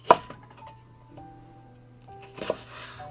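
Two sharp knife chops on a cutting board while green onion is cut into chunky pieces for Korean spicy stir-fried pork, one at the start and one near the end, with soft tonal background music between.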